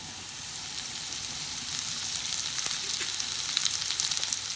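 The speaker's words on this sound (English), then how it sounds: "mushrooms, onion, and garlic and chilli has been frying for about a minute" Mushrooms, onion, garlic and chilli fry in sesame oil in a pan, giving a steady, moderately quiet hiss and sizzle with scattered small crackles and pops, no talking.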